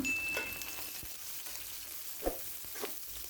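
Soft, steady sizzling of green chilies frying in oil with onions, with a few light stirring knocks and scrapes.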